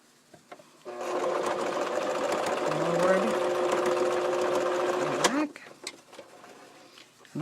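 A sewing machine runs steadily for about four seconds, sewing forward and back across a fabric flower petal for a quilt applique, then stops with a short whir and a few light clicks.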